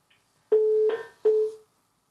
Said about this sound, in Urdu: نشا کی کال ڈراپ ہو گئی